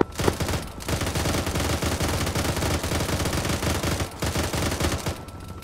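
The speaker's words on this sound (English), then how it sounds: "I'm just shooting this tree line we were being shot at." Sustained automatic gunfire from Arma 3 combat, shots fired at a tree line in rapid, dense bursts with continuous crackling reports, loud and close, with barely a pause throughout.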